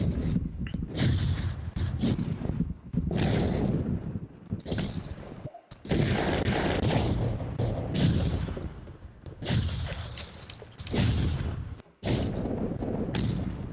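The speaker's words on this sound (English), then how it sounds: "These are more explosions." Repeated booming video game explosions with crackling debris, one blast after another, loud and dense with only brief gaps, from Transformers Rivals 2.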